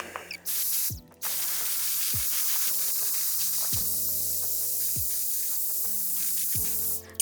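A Dyson Airwrap Co-anda2x blowing air through its comb attachment while styling hair: a steady, loud rushing hiss of airflow with shifting motor hum, briefly cut off and restarted, with no talk.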